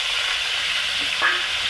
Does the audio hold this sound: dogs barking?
no